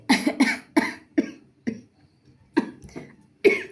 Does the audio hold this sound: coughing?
yes